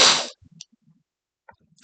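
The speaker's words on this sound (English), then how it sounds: "Feels like I'm gonna sneeze." A single loud, close sneeze bursts out at the start, followed by quiet sniffs and small movement noises, with a faint second breathy burst near the end.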